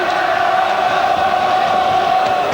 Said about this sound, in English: Crowd are singing, all of them in the background